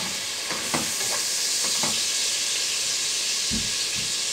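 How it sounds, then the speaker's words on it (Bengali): Turnip pieces, cooked with shrimp, fry in a pan with a loud, continuous sizzling hiss, broken by a few soft stirring knocks early on and near the end. "এখন আমি একটু ভেজে নেব"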